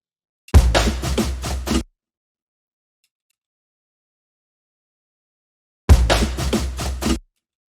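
An afrobeat drum roll used as a transition effect plays twice, each time a tight burst of about six rapid, heavy hits lasting just over a second, with long silence between the two.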